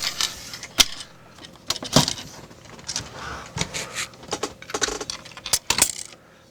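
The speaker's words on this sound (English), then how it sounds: "Fold away the radio." Metal parts of an R442 military VHF radio receiver clatter and knock as the set is folded up and put aside, giving a string of sharp, close jangling clunks and scrapes at irregular intervals.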